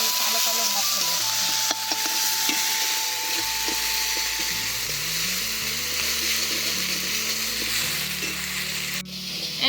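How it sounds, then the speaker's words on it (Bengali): Masala and tomato sizzle in hot oil with the fried banana flower for a mocha curry, a steady frying hiss with stirring throughout. "এবার সব কিছু খুব ভালো করে কষিয়ে নেবো টমেটো দিয়ে।"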